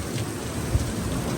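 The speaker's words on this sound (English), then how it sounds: "The rain's just kicked in." Heavy rain pours down at the Alton Towers theme park in April, a dense, loud, constant hiss of drops on surfaces with a brief low thud in the middle.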